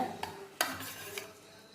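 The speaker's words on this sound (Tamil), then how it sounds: "இது எல்லாம் நல்லா மிக்ஸ் பண்ணி விட்டு நல்லா மிக்ஸ் பண்ணிக்கோங்க" A spoon clinks and scrapes against a metal pot while stirring a homemade hair-care mixture, with a few sharp taps in a quiet kitchen.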